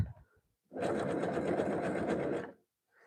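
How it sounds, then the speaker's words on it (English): A sewing machine stitches zigzag in reverse and then forward, running in one steady close mechanical whir for about two seconds between short quiet gaps. "Now I'm going to turn down my zigzag just a little bit so it's not as big and not as wide, and I'm going to do a reverse and a forward."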